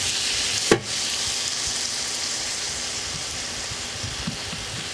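Garlic frying in oil in a pan, a steady close sizzle with fine crackling throughout and one brief clack near the start.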